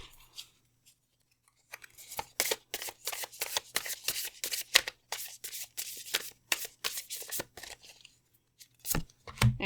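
Tarot cards shuffled by hand, a rapid run of papery riffling bursts at close range, quiet overall with brief pauses between shuffles.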